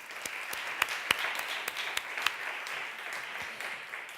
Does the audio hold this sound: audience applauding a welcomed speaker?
yes